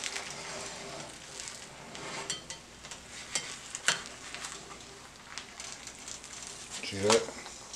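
Eggs fry in a pan for a Denny's-style Moons Over My Hammy sandwich, a continuous crackling sizzle with scattered scrapes and clatter, ending in a louder clunk near the close.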